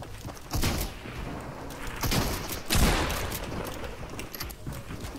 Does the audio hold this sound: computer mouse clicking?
no